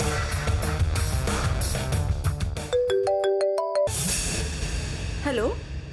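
A phone ringtone chirps in a short melodic pattern of repeated tones, loud and clear over a background of music and voices, then stops.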